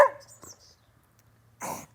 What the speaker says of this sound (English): excuse my dog, giving a little bit of a bark there.